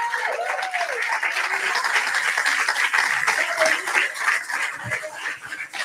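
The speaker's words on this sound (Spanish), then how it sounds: "Alguien dele un aplauso al Señor." A church congregation applauds in praise during a sermon, producing dense, steady clapping that fills the room continuously with a few voices calling out over it.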